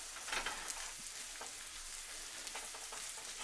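Shrimp sautéing in butter in a large pan, a soft, even hiss of frying with light scattered pops, fairly quiet and continuous throughout.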